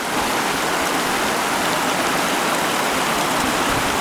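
Water pours steadily from a mountain lake outflow in a dense, unbroken rushing hiss, close and loud with no pauses.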